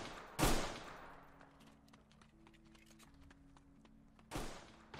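Two loud, sharp gunshots from a gun in a video game, one near the start and one near the end, with quieter clattering game sounds and a low hum between them.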